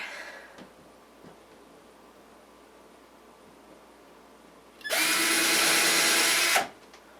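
A power drill boring a hole in drywall whines loudly in a short burst of under two seconds, cutting off abruptly, after a stretch of quiet room noise.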